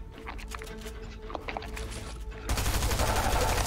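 Rapid bursts of gunfire in a Fortnite match at Tilted Towers, first scattered shots, then a dense, loud stretch of continuous automatic fire in the final second.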